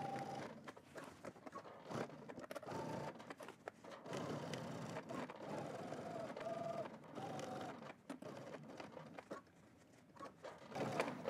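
Domestic sewing machine stitching a 5/8 inch garment seam with backstitching, a faint, busy mechanical rattle running almost continuously with brief pauses.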